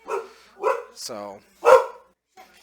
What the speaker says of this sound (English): My dog likes to bark at shadows.